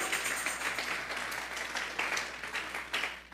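A church congregation claps as an offering to God during a sermon, sustained moderately loud applause with uneven swells, continuing throughout.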